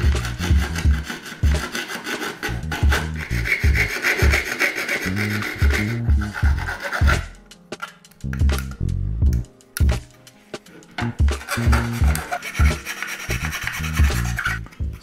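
Close, rhythmic rasping strokes of a file wearing away plastic from a 3D-printed PC test bench part, repeated in bursts with short pauses in between.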